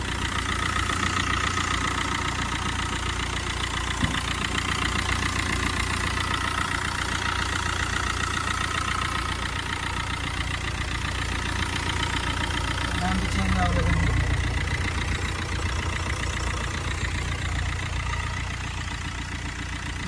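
A 2015 Tata Bolt XMS diesel car engine idles steadily at close range, a continuous low rumble with a faint knock, running unbroken throughout.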